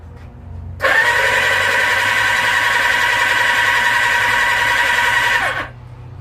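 A Suzuki Katana motorcycle engine is turned over on the starter with its spark plugs out, giving a loud, steady whirring drone that runs for about five seconds, then cuts off sharply.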